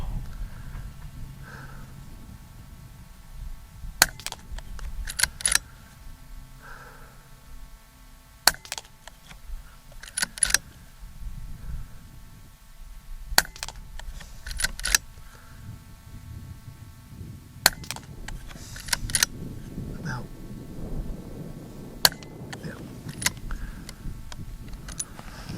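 Daystate Red Wolf .22 caliber air rifle fired at a 50-yard range: several sharp, short cracks at irregular intervals over a low ambient rumble, with faint handling noises between shots.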